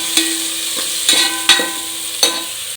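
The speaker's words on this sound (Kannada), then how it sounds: "ಇದಕ್ಕೆ ಟೊಮೊಟೊ ಆ್ಯಡ್ ಮಾಡೋಣ tomato soft full soft ಆಗೋಗಂತ fry ಮಾಡೋಣ" Tomatoes frying in a pan with peas and oil, a steady soft sizzle broken by four sharp scraping stirs of a spoon against the pan, close and clear with no talking.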